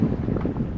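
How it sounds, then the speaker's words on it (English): Wind rushes steadily past a sailboat under sail on the open sea, a continuous low buffeting roar with wind noise on the microphone and no talking. "we're just enjoying the sail."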